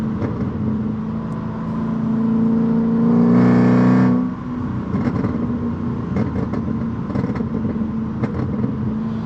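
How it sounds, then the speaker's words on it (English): A Mercedes C55 AMG with Kleemann headers and straight-pipe valved exhaust swells into a loud rev. It falls back, then crackles with a scatter of sharp little pops over a lumpy rumble as the throttle is tapped. "after letting off the gas, I just tap the throttle a little bit and it creates the pop noises"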